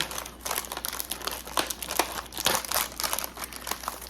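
Dry seaweed sheets are crumpled by hand close up, a continuous burst of crisp crackling and crinkling with irregular sharper snaps and no talking.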